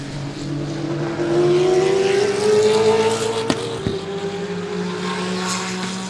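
GT race cars scream past at speed on the Sebring circuit, one engine note climbing sharply as it approaches and then dropping away, followed by further cars droning through at a distance.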